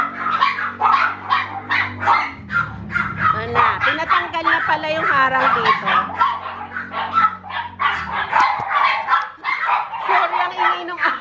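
A dog barks repeatedly in quick yapping bursts indoors in a house under renovation, the barking continuous and prominent while someone talks over it.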